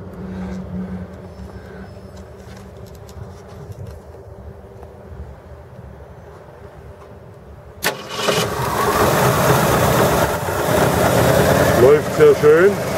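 A 1965 Ford Mustang V8 with electric choke and new ignition cranks and fires after a quiet stretch with someone talking, then settles into a loud, steady cold idle with slight revving near the end.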